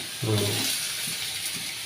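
Potatoes sizzle in a frying pan in a home kitchen, a constant close hiss with a brief murmur of voice near the start.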